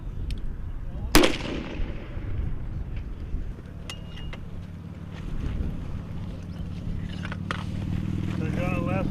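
A US Army M3 Carl Gustav recoilless rifle fires one sharp, very loud blast early on, followed by a rolling decay and outdoor background noise, with voices talking around the shot.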